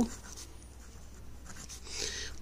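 Pen scratching on paper while writing out a Telugu exam answer, a soft continuous scratch with slightly stronger strokes near the end, heard alone at close range.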